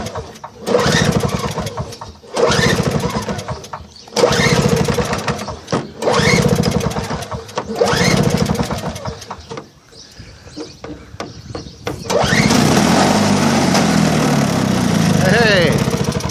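A John Deere TRS 21 snow blower on a cold start: several loud, rhythmic starting attempts with short gaps, then the small engine catches and runs steadily and close by.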